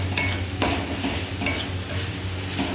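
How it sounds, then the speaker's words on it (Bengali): Powdered spices are stirred into masala frying in a pan, giving a loud close sizzle with about four sharp scraping strokes of a spatula in quick succession. "দিয়ে খুব সুন্দর করে নেড়ে নেব, মশলাটাকে মিশিয়ে নেব।"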